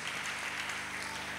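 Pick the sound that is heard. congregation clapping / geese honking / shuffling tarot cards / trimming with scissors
congregation clapping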